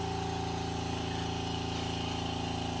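An electric pump steadily inflating a Mangar Leglifter, a bedside leg-lifting cushion: a continuous, even motor drone with a tonal hum, moderately loud and close, running without pause and with no speech.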